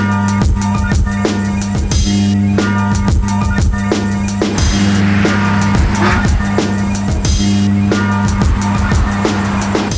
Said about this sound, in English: So now it's time to check out the Mercedes-Benz E63